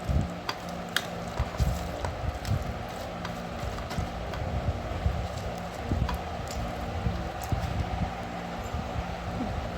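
Raw onions tossed with garlic in a hot pan for an okra bharta give a steady, close sizzling hiss, broken by irregular knocks and scrapes of the stirring utensil throughout.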